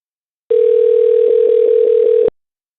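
A telephone line's steady dial tone sounds alone for nearly two seconds while a scam number is being called, broken near the end by a quick series of brief pulses before it abruptly cuts off.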